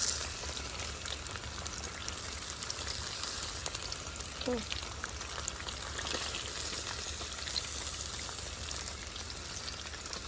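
Chicken drumsticks frying in oil for a second round in a home kitchen, a steady, even sizzle and crackle at moderate volume throughout, close by.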